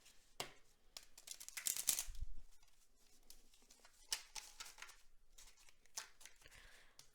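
A tarot card deck being shuffled by hand, faint close riffling and crisp flicks in irregular bursts, with a soft thump partway through.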